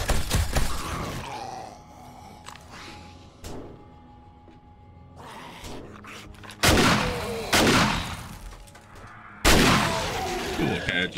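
Shotgun blasts in the survival video game 7 Days to Die, several loud booming shots spaced a few seconds apart, with sharper bursts near the end and quieter game noises between.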